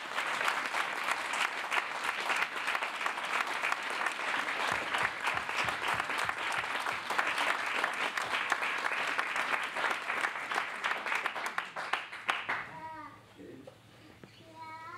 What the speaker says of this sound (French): je vous demande un tonnerre d'applaudissements pour Marie-Christine de la Vitola.